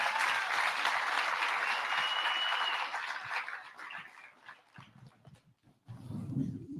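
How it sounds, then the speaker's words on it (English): Audience applause at a youth leadership conference in Nassau, Bahamas, a broad steady wash of clapping that fades and thins out toward the end, with a brief low rumble near the close. "Let's give our presidents another round of applause."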